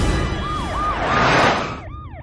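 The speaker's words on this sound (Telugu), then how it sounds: "వెంకటలక్ష్మి నడి రోడ్ లో అంబులెన్స్ ఆగిపోవడంతో ఒక గర్భిణి అవస్థపడుతుంది." An ambulance siren wails in a repeating up-and-down cycle, loud and close, alongside a second overlapping siren tone and road traffic noise.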